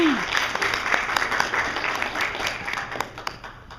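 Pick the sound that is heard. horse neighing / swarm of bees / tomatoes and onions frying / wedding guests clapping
wedding guests clapping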